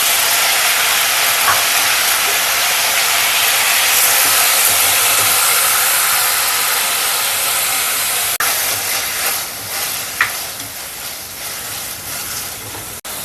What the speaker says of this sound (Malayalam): നമുക്ക് സാമ്പാറിനുള്ള വെണ്ടയ്ക്കായും തക്കാളിയും കൂടെ ഒന്ന് എണ്ണയ്ക്കകത്ത് വഴറ്റിയെടുക്കാം.